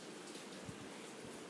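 Rain falling outside a room, a faint, even hiss of drops with a few soft patters, steady and distant with no voices.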